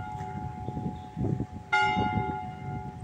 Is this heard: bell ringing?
yes